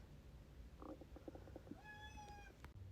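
A pet cat indoors during a Halloween craft session gives a single drawn-out meow near the end, preceded by soft scattered clicks and shuffles in a quiet room.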